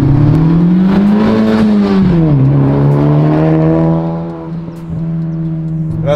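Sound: Honda Type R turbo blow-off valve sound

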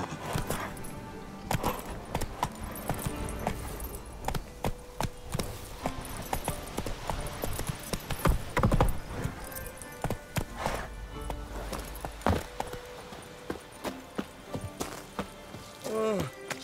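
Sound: horse galloping hooves in video game The Witcher 3

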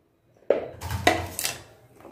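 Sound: slicing ivy gourd with a knife

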